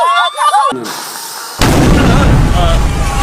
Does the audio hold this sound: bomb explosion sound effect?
yes